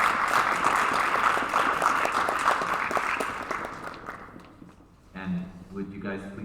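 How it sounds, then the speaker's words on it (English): A concert-hall audience claps for honor orchestra students, a dense, steady wash of applause that gradually thins and dies away before a voice begins speaking. "Bravo, yeah, let's give them applause."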